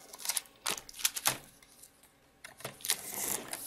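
Stampin' Up cardstock being trimmed for a Valentine's Day card, heard as a few quick, close cutting clicks and scrapes at intervals, ending in a longer rasping stroke.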